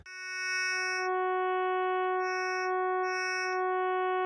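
A sustained wavetable synthesizer tone from a Waldorf Blofeld with bright, steady harmonics, its upper partials shifting and sweeping in slow movement, playing alone with no talk.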